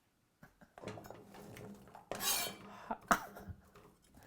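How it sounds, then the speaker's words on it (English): A cutting board set down into a kitchen sink lands with a few clattering knocks and a brief scrape, close and fairly quiet, with dish-like clinks in a home kitchen. "that was me putting my cutting board in the sink."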